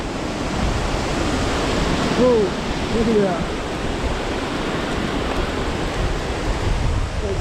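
Strong, damaging wind gusts roar during a wind storm, a constant loud broadband rush with surges, while a person briefly speaks over it partway through.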